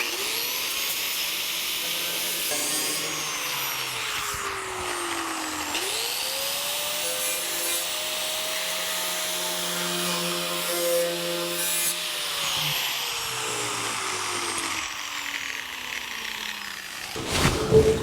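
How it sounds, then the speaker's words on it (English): A power grinder works a steel rust-repair patch panel on a 1949 Chevrolet gasser. The motor gives a steady whine that dips and rises as it bites into the metal, runs continuously and close up, with no talk. "We're going to grind up to the line."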